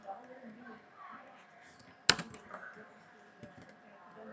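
Someone types on a computer keyboard in quiet, scattered keystrokes, with one sharp louder key hit in the middle, while a voice talks softly.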